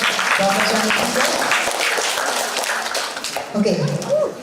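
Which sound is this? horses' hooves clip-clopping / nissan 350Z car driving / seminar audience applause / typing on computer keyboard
seminar audience applause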